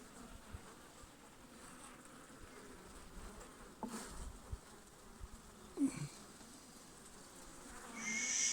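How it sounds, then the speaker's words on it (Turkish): Low continuous buzzing of Anatolian honeybees swarming nearby at an opened hive in May, with scattered soft knocks and handling noises, growing louder toward the end. "inatçı da bir arı. Sert bir arı ama Anadolu arısıyla çalışmayı seviyorum."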